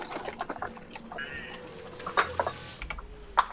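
Chicken clucking in the video game Smite, a few short bright clucks heard among game effects and clicks, fairly faint and brief.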